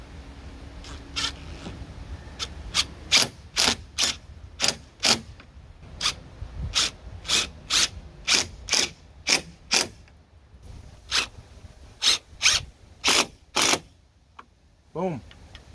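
Power drill with a Phillips bit driving self-tapping screws into a Jeep Grand Cherokee ZJ driver's door, a close series of short whirring bursts in quick succession with brief pauses between screws.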